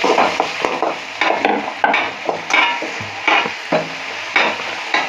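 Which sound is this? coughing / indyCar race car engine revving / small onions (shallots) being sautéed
small onions (shallots) being sautéed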